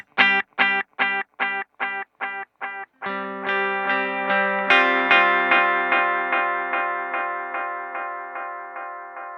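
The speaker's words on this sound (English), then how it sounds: "So it has that kind of tape delay character to it." A clean electric guitar through a Nobels Del-mini delay pedal with tape-delay character plays a run of repeated staccato chords, then a longer ringing passage where each strum blooms into warm, smeared echoes, loud and close with no talking.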